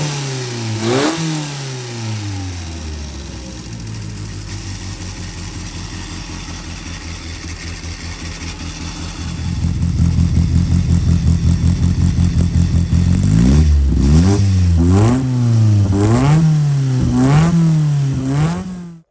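A car engine on a dyno idles, then climbs into a loud, sustained rev and is blipped up and down repeatedly with a harsh, raspy exhaust tone through a Profusion straight-through silencer.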